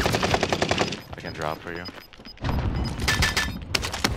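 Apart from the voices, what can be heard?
gunfire in video game Call of Duty Warzone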